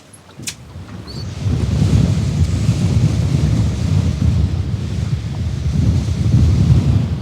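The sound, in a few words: strong wind at sea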